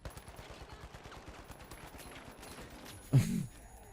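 Gunfire in The Finals, an online team shooter: a dense, fast string of small shots rattles steadily throughout, then one louder, heavier blast stands out near the end.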